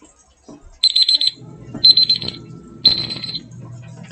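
A quiz countdown timer runs during a math lesson on quadratic functions. It gives three short bursts of shrill electronic beeping, evenly spaced about a second apart, loud and alone with a faint low murmur between them.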